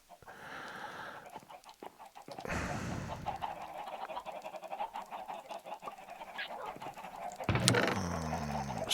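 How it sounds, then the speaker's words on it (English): Minecraft chickens cluck in short, repeated bursts at moderate distance, mixed with game ambience and a louder flurry of clucks and squawks near the end. "Why are we making that much noise, chickens?"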